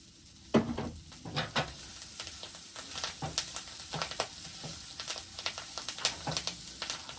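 Kale frying in oil in a pan, a close, steady sizzle broken by stirring scrapes and spatters, with no speech.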